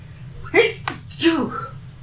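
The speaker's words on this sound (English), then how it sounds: "You guys are going to hear a sneeze." A person sneezes near the microphone in two sharp bursts, a quick intake followed by an explosive release, over a faint low hum.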